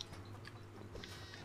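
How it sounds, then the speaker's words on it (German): Sheep bleat faintly in the Moving Out 2 video game, a short soft farmyard call repeating over a low steady background hum. "Hier sind Schafe."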